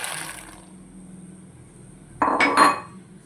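Phool makhana fox nuts tipped into melted ghee in a kadai pan, a short burst of clattering and rattling as they land against the metal, fairly close and loud, following a quiet stretch.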